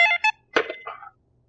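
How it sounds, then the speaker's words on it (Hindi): A telephone gives short electronic tones: two quick beeps, a pause, then a louder warbling ring, clear and close with nothing else around it. "ये बेवत किसका फोन आ गया?"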